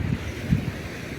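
Blustery wind rumbles and buffets by the sea at Ustka, Poland, a brief low roar with no voices.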